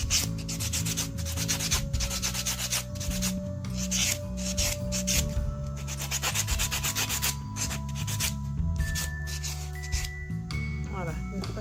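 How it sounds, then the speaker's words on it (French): Rapid rhythmic rasping strokes of a buffer block rubbed over a gel nail with white tips to remove shine, close and continuous, with faint background music beneath. "je passe le box polissoir pour supprimer la brillance"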